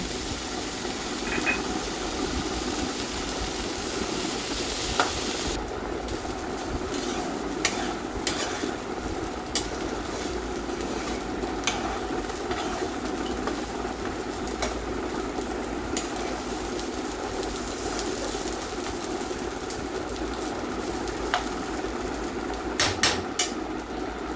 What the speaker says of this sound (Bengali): পরিমাণ মতো দিয়ে দিলাম লবণ দিয়ে নাড়াচাড়া করে আমি ডালিয়াটা দিয়ে দিলাম